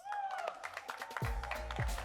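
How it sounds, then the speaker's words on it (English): Applause for the man of the match at a cricket league presentation: scattered claps ring out under a voice, then a fuller burst of crowd clapping with heavy low thumps takes over. "A big round of applause"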